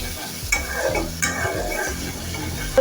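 Ginger garlic paste being sautéed into a Bangladeshi poa fish masala in a pan, with a steady low sizzle, a few sharp spoon scrapes and stirs, and a louder knock at the end.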